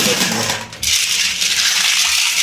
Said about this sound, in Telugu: స్టోన్స్ కడగవా? వాష్ చేయాలి.